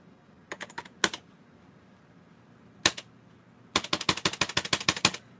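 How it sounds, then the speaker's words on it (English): Keys on an HP Vectra 486 computer keyboard clack in short bursts, first a few taps, then a lone strike, then a rapid run of a dozen keystrokes. The strikes are crisp and close against a quiet background. "Apparently my keyboard is actually broken."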